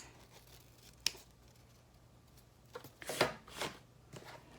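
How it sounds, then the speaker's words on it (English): Scissors snip off the excess ribbon on a handmade gift bow, a single crisp cut followed a couple of seconds later by a cluster of quick snips and rustles, close and quiet. "cut off the excess"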